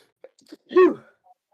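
A single sudden sneeze bursts out close by amid near silence, preceded by a few faint breaths and small noises.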